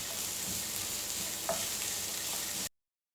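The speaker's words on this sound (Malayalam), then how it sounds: "സവാള ചേർത്ത് നല്ലപോലെ ഒന്ന് സോട്ട് ചെയ്യണം." Onions sautéing over a high flame in a pan for a prawn roast, giving a steady close sizzle with light stirring scrapes throughout, then stopping abruptly.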